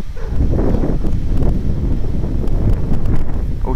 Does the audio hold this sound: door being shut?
no